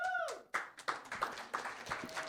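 Audience at a talk breaks into scattered clapping, a handful of distinct hand claps at uneven intervals, fairly close and moderately loud.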